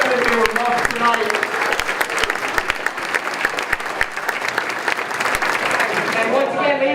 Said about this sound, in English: Let's just give one more big round of applause for all of our 2018 inductees